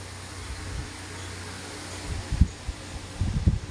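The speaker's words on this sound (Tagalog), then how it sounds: "Malamig naman at may electric fan." An electric fan runs in a bedroom with a steady, soft whirring hum, joined by faint low rustles and thumps near the end.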